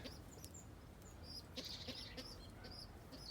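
Young birds chirping in a coop, faint scattered high tweets and calls in short bursts over a quiet background hiss.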